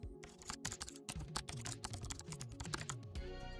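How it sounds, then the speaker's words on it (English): Rapid, steady keystrokes clatter on a computer keyboard while a C++ program is typed on a Windows 11 PC, dense irregular clicks running continuously, close and clear, with a faint low tonal hum underneath and no voices. "Let me quickly type a basic C++ program that prints subscribe now."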